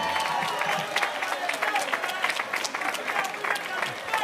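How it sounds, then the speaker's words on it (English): An audience at a mayoral proclamation presentation applauds steadily with some cheering mixed in, a dense, fairly loud wash of clapping that holds throughout with a few whoops rising above it. "Let's give a huge round of applause."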